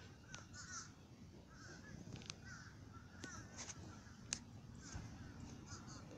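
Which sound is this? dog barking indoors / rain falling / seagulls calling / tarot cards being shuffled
seagulls calling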